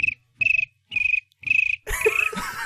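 A person imitates a cricket with four rhythmic chirping bursts, separated by short gaps, close to the microphone, before a burst of laughter and noisy voices takes over.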